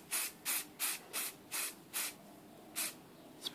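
Hairspray is sprayed onto a scale model in short aerosol bursts, about eight close hissing puffs in a fairly even rhythm, with no voices.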